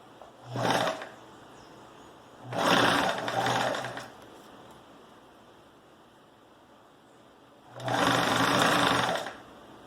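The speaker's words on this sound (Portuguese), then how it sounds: "E agora é só passar uma costura em toda essa borda aqui bem rente ao zíper." A sewing machine stitches along the edge of a zipper in three separate runs, each a steady close whirring buzz lasting one to two seconds, with quiet pauses between.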